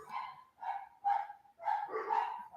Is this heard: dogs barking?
yes